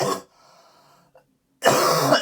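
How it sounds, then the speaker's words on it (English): A person coughs loudly up close, with a harsh burst at the start and another a moment later, separated by a near-silent gap with a faint steady hum. "Sorry, I need to cough again."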